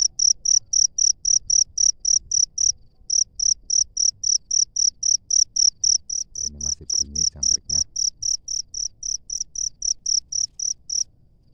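A loud, close cricket chirps in a rapid, regular rhythm throughout, with a brief pause early on and a short low knocking sound midway.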